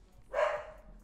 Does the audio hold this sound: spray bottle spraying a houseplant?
no